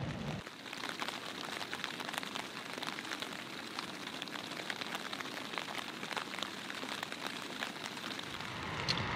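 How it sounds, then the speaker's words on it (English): Steady rain falls on a surface nearby at a campsite in the Arctic wilderness, a constant dense patter with scattered louder drops, no voices. "It's raining again."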